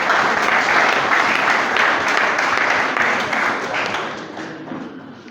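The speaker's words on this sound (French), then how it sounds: "Si nous pouvons d'abord nous applaudir nous-mêmes pour cet effort." Sustained applause from an audience at a public event marking a diabetes awareness day, a dense wash of many hands clapping that holds steady, then gradually thins and fades toward the end.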